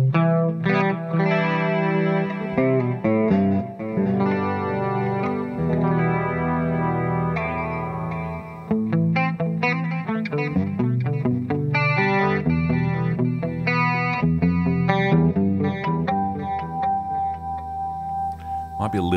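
An electric guitar runs through a Boss GT-1000 into a tube amp, with chorus added on a foot switch and mixed to mono. A loud, continuous stretch of shimmering chorused chords and riffs with slight distortion.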